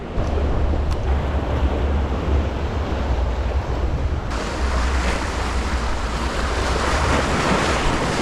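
Rough surf pounds the New Jersey jetties at high tide, a loud, dense and unbroken wash of crashing water with gusty wind noise on the microphone throughout.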